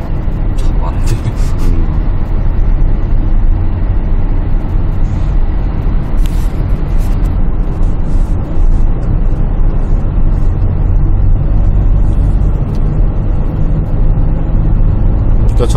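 A 2019 Kia Carnival van fitted with four unpowered turbo swirl devices drives along a road, its engine and road rumble loud and steady throughout as it accelerates, with people talking inside the cabin.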